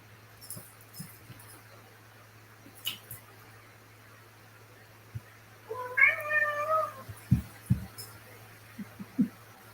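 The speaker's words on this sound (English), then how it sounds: "Kitty." A cat gives one clear, drawn-out meow midway through, faint and indoors over a steady electrical hum, with scattered small knocks and handling sounds around it.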